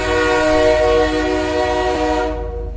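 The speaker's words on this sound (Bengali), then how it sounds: "ট্রেন চলতে শুরু করলো।" A train pulls away from a station, its horn blaring as a loud, sustained, chord-like tone over low rumble before it cuts off near the end.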